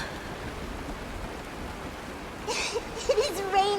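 Soft, steady rainfall hisses in a Honkai Star Rail scene, a faint continuous wash, until voices come in near the end and talk over it.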